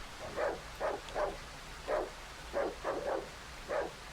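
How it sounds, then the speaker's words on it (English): Dogs bark in the horror game Darkwood, about nine short barks at an uneven pace, some grouped in pairs, heard at a moderate distance over a quiet ambient bed. "Alright, so there was the dogs here."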